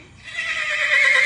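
A horse in its stall lets out a rising, drawn-out whinny that grows louder toward the end, heard alone and fairly close.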